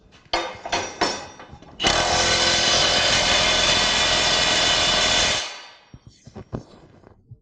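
A Milwaukee M18 FUEL 3/4-inch high-torque impact wrench on a 5 amp-hour battery hammers a nut loose. It opens with a few short bursts, then runs one loud, steady, continuous hammering blast for about three and a half seconds. A few faint knocks follow.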